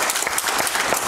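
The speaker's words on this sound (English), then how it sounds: "Give the Lord a hand clap this morning." A church congregation claps their hands at a Sunday service, a short burst of dense, even applause from many people in the room.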